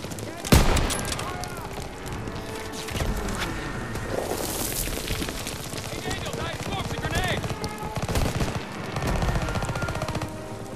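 Rapid gunfire and bullet impacts in the Call of Duty campaign, with bursts of automatic fire and sharp shots layered over loud battle noise, continuing throughout while a player talks over it.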